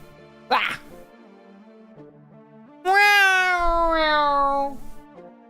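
A cat named Zoro gives a short sound, then a long, loud, drawn-out meow that falls in pitch over about two seconds, close by in a quiet room.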